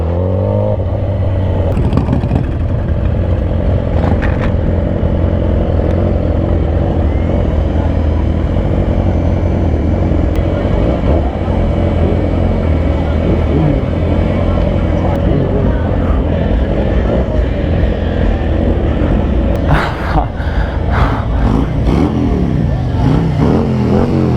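Motorcycles at a street bike meet roar and rev loudly and continuously, a dense engine drone swelling in bursts, with people talking underneath.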